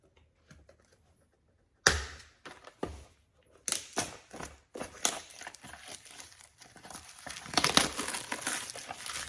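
Packaging around an RC motor crinkles and rustles up close as it is unboxed, starting after a short quiet stretch and turning into a busy stream of crackles and crumples.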